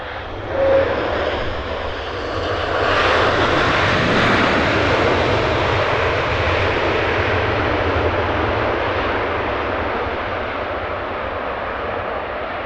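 A plane at Heathrow Airport roars steadily and loudly for the whole stretch, a broad jet-engine rumble swelling slightly early on and holding near and strong, with no voices.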